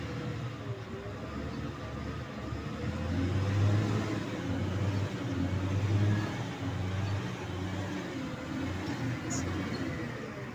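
A CAT 120K motor grader engine revs up from idle, swelling to a louder drone mid-clip and then settling back to a steady, moderately distant rumble.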